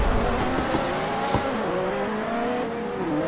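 Several Ferrari race car engines roaring together during a Forza Horizon race, a dense, loud wash of high revving engine tones with faint tire noise, continuous and close.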